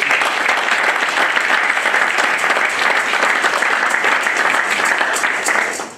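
A church congregation claps and cheers for Jesus during a French sermon, producing a dense, loud, sustained wave of applause that fills the room and fades out at the end.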